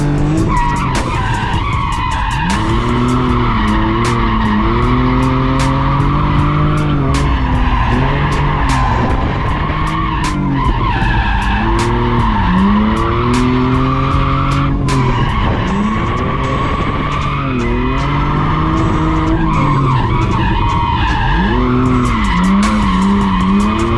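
A drifting car, BMW or Infiniti, sends its tires skidding in long, continuous squeals that rise and fall over a loud, constant engine roar, close and sustained throughout.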